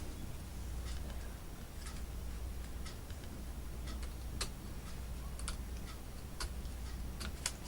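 Paper lace being cut with scissors for a journal pocket: a sparse run of quiet, crisp snips and ticks, spaced irregularly over a soft background hiss.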